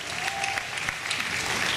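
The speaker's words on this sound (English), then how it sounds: "Give them a big round of applause, they do a great job here." An audience at a live stunt show at Universal Studios Orlando bursts into steady, dense applause, a continuous wash of many hands clapping at moderate distance with no voices over it.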